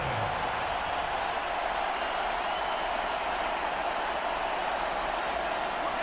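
Steady crowd roar filling a football video game stadium during a Chargers kickoff return, a broad continuous wash of cheering and applause that holds at an even level throughout with no distinct voices.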